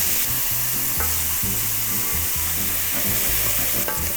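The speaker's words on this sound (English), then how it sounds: "We've got the garlic as well. Saute that up." Garlic and vegetables sauté in a skillet with a loud, steady, close sizzle, and rhythmic stirring and scraping run under it.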